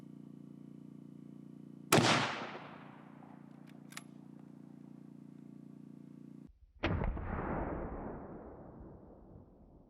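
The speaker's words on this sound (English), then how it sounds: "and then proceeded to take the shot" A single loud rifle shot of a Sierra 7mm 175gr MKX bullet fired into a gel block cracks sharply over a steady hum, followed a few seconds later by a second loud burst with a long decaying rumble.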